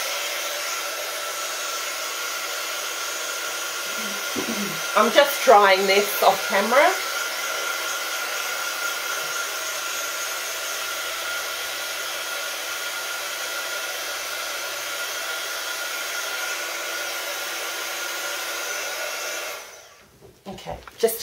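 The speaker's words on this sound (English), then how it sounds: "if you can't wait for it to dry, use your heat tool" A heat tool blows steadily as it dries acrylic paint, a loud, continuous whooshing drone that runs nearly the whole time before cutting off. A person speaks briefly over it early on.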